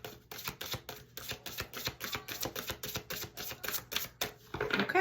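Tarot cards being shuffled, a quick run of sharp, crisp riffling clicks in a steady rhythm, close and fairly loud, with a denser flurry near the end and no talking.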